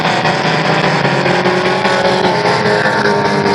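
Pure stock race cars roaring around a dirt oval track, a loud dense wall of engine noise with overlapping revving tones, constant and close throughout.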